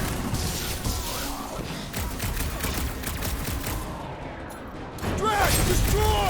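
Rapid bursts of gunfire from Rocket in the Guardians of the Galaxy game, a dense loud volley of shots and impacts with a short lull before another burst, voices mixed in.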